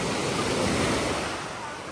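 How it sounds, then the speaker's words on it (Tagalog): Sea waves washing in at Sea Haven beach in San Juan, Batangas, a steady broadband rush of surf close by, with some wind across the microphone and no clear speech over it. "Mga alon, guys."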